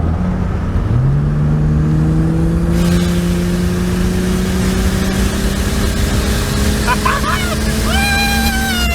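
A turbocharged 2JZ engine in a Toyota Aristo revs loud and close under rising boost, its pitch climbing steadily for several seconds over heavy rumble, ending in high whining harmonics as voices talk over it.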